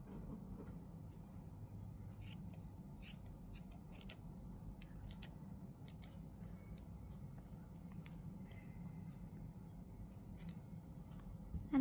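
Scissors trim the yarn tassel on a crochet bookmark, a series of faint, close, crisp snips spread out over quiet room hiss.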